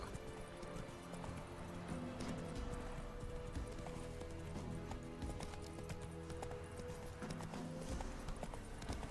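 Roach the horse gallops in the video game The Witcher 3, a dense, continuous drumming of hooves with a constant rumbling background, fairly loud throughout.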